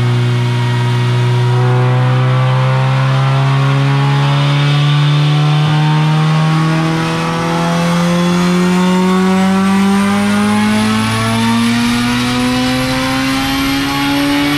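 A boosted Honda Civic drag car accelerates hard at full throttle, its engine note climbing steadily through a long pull, loud and close with a continuous roar and no talking.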